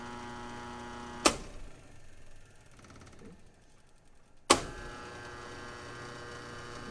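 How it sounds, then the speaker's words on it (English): Three-phase electric motor on a simple start-stop control circuit, heard as a steady mains-like hum punctuated by two sharp contactor clacks a few seconds apart, with the hum quieter between them. "the green run light will come on, and then the motor will energize"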